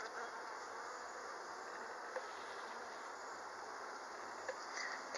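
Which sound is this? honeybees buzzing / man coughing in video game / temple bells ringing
honeybees buzzing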